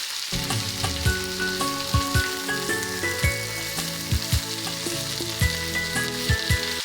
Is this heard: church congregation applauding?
no